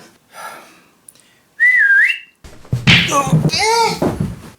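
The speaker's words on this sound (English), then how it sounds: "my teeth did that whistle thing again by accident" A short, high accidental whistle through the teeth rises and bends for under a second, framed by a soft knock and followed by a voice speaking.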